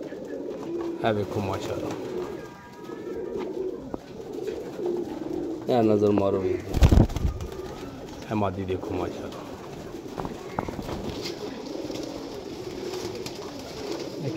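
Pigeons coo softly in a loft in Jhelum, a steady low murmur of cooing running throughout while someone talks over them at close range.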